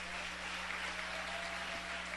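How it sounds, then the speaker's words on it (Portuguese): A church congregation claps in a steady, faint wash of applause, heard from a distance over a constant low electrical hum. "E aplaude a Jesus com bastante alegria."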